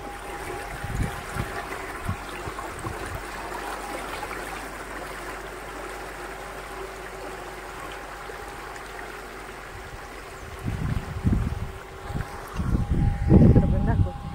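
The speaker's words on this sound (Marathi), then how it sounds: "कॅनल फुल्ल भरून वाहतोय" A full irrigation canal in a farming area flows in a steady, moderate rush of water, with bursts of wind buffeting and someone talking over it.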